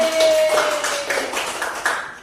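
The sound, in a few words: clapping in a classroom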